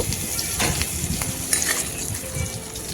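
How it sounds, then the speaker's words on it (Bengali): Dried and green chillies fry in hot oil in a pan, a steady, close crackling sizzle with faint stirring scrapes, no voices. "এবারে কয়েকটা শুকনো লঙ্কা আর কাঁচা লঙ্কা ভেজে নিচ্ছি।"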